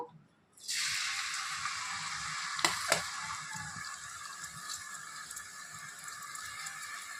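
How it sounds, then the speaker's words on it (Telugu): Onions hit a hot pan for chicken curry and settle into a steady, close, bright sizzle after a brief silence, with a couple of sharp clicks partway through and no talking. "చికెన్ కూర పెట్టుకున్నాను ఉల్లిపాయలు వేసేస్తాను"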